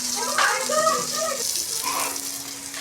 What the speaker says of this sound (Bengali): এক এক করে সব মাছ আমি এভাবে ভেজে ভেজে তুলে নিচ্ছি